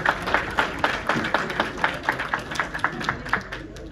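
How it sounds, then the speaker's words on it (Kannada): An audience at a banking seminar applauds to welcome a guest onto the stage, rhythmic rapid clapping from a modest crowd, steady and fairly close for the whole stretch. "ದಯವಿಟ್ಟು ಚಪ್ಪಾಳೆಯೊಂದಿಗೆ ಸ್ವಾಗತಿಸಬೇಕಾಗಿ ವಿನಂತಿ."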